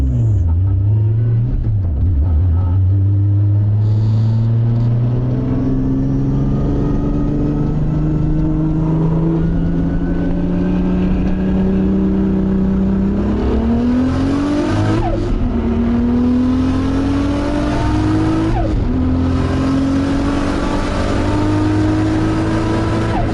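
A MKIV Toyota Supra at a burnout contest is brake boosted, its engine held at a loud, steady roar that climbs in pitch with short dips and surges, close and continuous.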